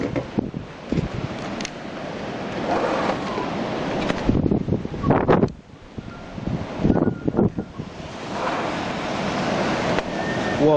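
Strong wind gusts during Superstorm Sandy buffet the microphone, roaring and surging in waves with a brief lull midway before building again, loud and close.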